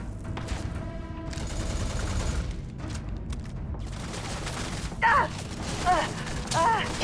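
Bursts of gunfire and mechanical weapon clatter in the video game Starfield, loud, with shots clustered in the first few seconds and more later, while voices talk over it.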